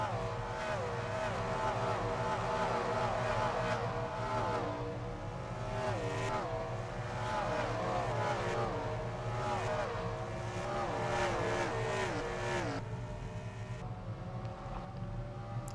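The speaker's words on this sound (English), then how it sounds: "I like letting the cars do the talking with the flybys." Race cars at Bristol roar past in a string of flybys, their engine notes swelling and falling in pitch one after another over a constant droning background.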